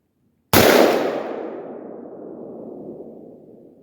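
A single AR-15 rifle shot fired one-handed outdoors, one sharp loud crack followed by a long fading echo.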